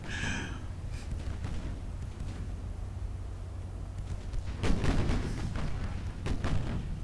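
Naval gunfire from warships in the game Ultimate Admiral Dreadnoughts, a steady low rumble broken by a cluster of heavy booming shots in the second half, loud and close with a muffled thump to each blast.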